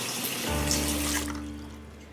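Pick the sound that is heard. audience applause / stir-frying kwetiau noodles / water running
water running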